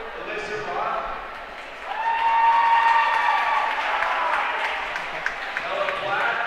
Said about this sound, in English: so we can give you a round of applause together again